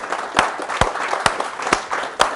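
Audience applause at a tech meetup talk, steady dense clapping filling the room with a few sharper louder claps standing out, no talk over it.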